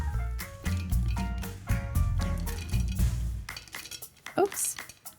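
Frozen cranberries and orange slices drop into a pitcher of apple cider sangria, a run of clinks and knocks against glass close by, with someone talking over them.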